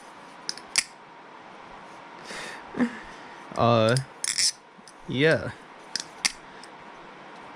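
Thomas balisong butterfly knife flipped by hand, giving scattered sharp metallic clicks and clacks of its handles, with a brief spoken word in between.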